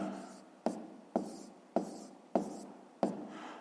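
Pen strokes on paper during a fifth-grade maths exercise, five or six quick scratchy bursts repeating at a steady rhythm about every half second, close and fairly quiet, with no talking.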